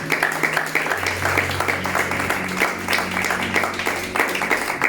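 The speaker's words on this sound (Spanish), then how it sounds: "Denle ese fuerte aplauso a nuestro Dios." A church congregation gives a sustained burst of applause at an evangelical gathering, steady dense clapping from many hands with a low hum and some voices underneath.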